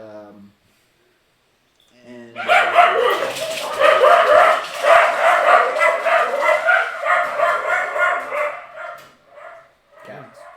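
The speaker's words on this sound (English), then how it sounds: "We got dogs in the house." Dogs barking indoors in a house, a sustained bout of loud, overlapping yaps and barks running for several seconds after a brief quiet, with a voice heard at the start.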